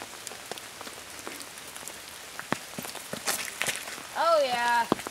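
Light rain patters on surfaces during a canopy tour in Lula, North Georgia, soft scattered drops with a few sharper taps, fairly quiet, and a brief voice rises near the end.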